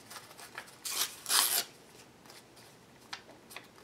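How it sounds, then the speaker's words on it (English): Paper being ripped into pieces for mixed media craft tags: two loud, close tearing bursts followed by softer rustling and a few small crinkles, with no talking. "just going to rip this up in a few pieces"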